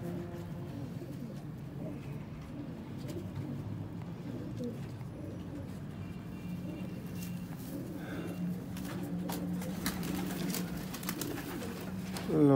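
Paired pigeons coo softly and repeatedly at close range, low rolling calls over faint background noise and occasional clatter, with a louder burst right at the end.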